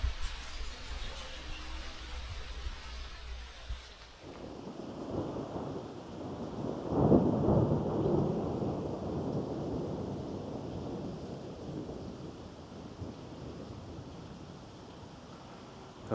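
An outdoor thunderstorm near Pontycymer rolls in: wind buffets the microphone, then a heavy rumble of thunder swells and fades over steady rain hiss, loud and enveloping, with no voices.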